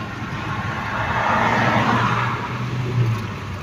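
A car pulls away in first gear, its engine giving a steady, moderately loud low hum with road noise. There is no talk.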